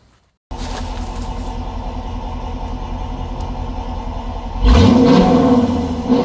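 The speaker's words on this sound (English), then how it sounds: "you do have dual exhaust, and it really sounds nice paired with that Hemi." A 2019 Dodge Durango R/T with a Hemi V8 and dual exhaust starts up, idles with a steady deep rumble, then revs loudly once and settles back, heard up close with no talking.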